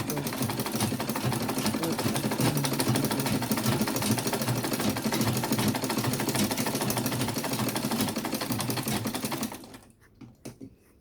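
A sewing machine runs steadily, stitching down the pocket of Ankara print cargo pants in one continuous rapid whirring run, close and loud, then stopping abruptly near the end with a few faint clicks.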